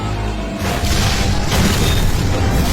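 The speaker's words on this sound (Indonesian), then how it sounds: "Mobil terjatuh dan seketika meledak." A car in a film falls and explodes, a deep booming rumble that swells and keeps roaring loudly for a few seconds with no voices.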